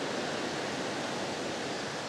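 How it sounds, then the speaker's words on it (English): A waterfall near a walking and cycling track in a country park pours as a steady, even broadband rush with no breaks, moderately faint and heard alone without voices. "Nice sound of the waterfall there."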